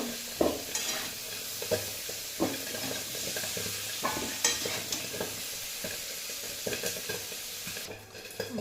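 Chunks of young green jackfruit frying in a kadai with a constant sizzle, punctuated by repeated scraping and knocking of a spatula stirring at an uneven pace.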